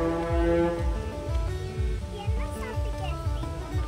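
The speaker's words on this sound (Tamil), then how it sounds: "Ship sound Sami." A deep, steady ship horn blares, with a rhythmic low thumping beneath and some chattering voices over the top.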